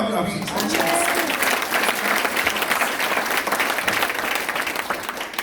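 A large crowd at a Busan pastors' rally applauds loudly and steadily, dense clapping filling the whole stretch while a voice speaks over it.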